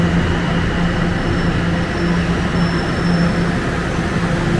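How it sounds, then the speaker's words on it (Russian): A yellow line subway train in the Toronto subway rumbles steadily, producing a continuous loud drone with a faint high whine, heard up close with no talking. "поезд с желтой линии."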